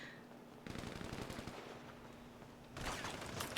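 Video game gunfire in a GTA roleplay server: two bursts of rapid automatic fire, fairly faint and distant, separated by a short lull.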